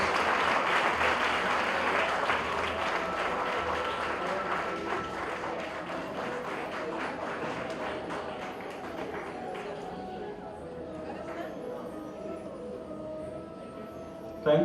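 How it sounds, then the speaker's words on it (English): Audience applause at a launch event for menstrual health teaching modules, a steady, dense clapping that fills the whole stretch, easing slightly toward the end, with faint voices underneath. "Big round of applause."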